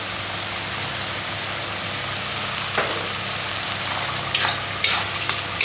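Meat crackles and sizzles in a pan with chili paste, salt and turmeric, a dense steady frying hiss broken by a few sharp spatula scrapes and clinks near the end.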